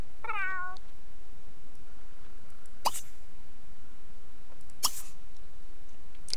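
A cat meows once in The Sims 3 video game, a short rising-and-falling call at the start against a steady low game hum, followed later by two brief clicks.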